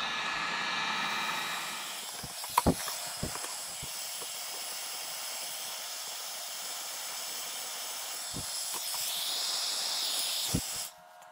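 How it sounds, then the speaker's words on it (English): Heat gun blowing hot air onto a piece of pipe clamped in a vise for bending on a Honda Recon snorkel build, a steady close hiss running throughout with a few sharp clanks and knocks, then cutting off at the end. "I'm going to see if I can use this heat gun to heat it up and bend it down."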